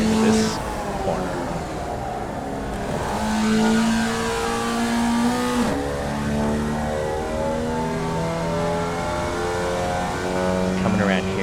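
Race car engine in the iRacing sim-racing game, a Rookie Formula car, holds a steady, loud mid-pitched drone with shifting harmonics as the throttle eases into a corner, rising and falling gently throughout.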